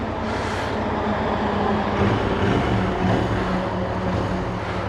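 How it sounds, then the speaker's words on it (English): A 2019 Royal Enfield Interceptor 650 motorcycle engine drones steadily while the bike is ridden, with constant road and wind rush mixed in, loud and close throughout with no speech. "I hope the mic can pick up that engine, because it sounds spectacular"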